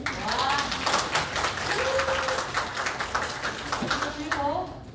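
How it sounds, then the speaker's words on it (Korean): A seated crowd at a disability day lecture gives applause, continuous dense clapping throughout, with a speaker's voice talking over it near the start and end. "박수 한번 주세요"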